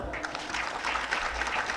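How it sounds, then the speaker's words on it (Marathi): Boys in the audience at a Marathi religious discourse clap briefly, a short burst of close, busy applause with a little chatter mixed in. "पोरांनी टाळ्या वाजल्या"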